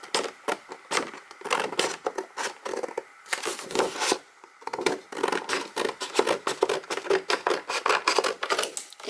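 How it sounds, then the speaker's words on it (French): Scissors snipping through patterned paper for a handmade correspondence notebook, rapid close crisp cuts in uneven bursts with short pauses, quiet and alone. "je vais découper ce dont je n'ai pas besoin"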